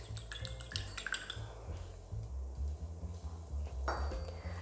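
An egg is beaten in a bowl with quick, close clinks and taps of utensil against the bowl, irregular and fairly faint, with no talking.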